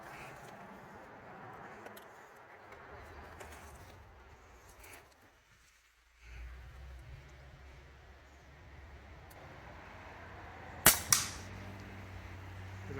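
An airgun fires offhand at a pop can 40 yards away. After a long, quiet stretch of faint outdoor background, one sharp crack is quickly followed by a second brief snap.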